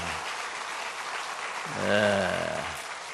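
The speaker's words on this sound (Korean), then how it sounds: "우리 박수로 한번 쳐주시길 바랍니다" Congregation clapping at a Sunday church service to welcome a children's choir, a steady wash of applause with a voice rising over it midway.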